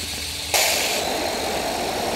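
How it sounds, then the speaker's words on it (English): A spin art machine starts up with a sudden whoosh and then keeps a steady whirring hiss, loud and close, with no voices. "I'm just gonna spin it now."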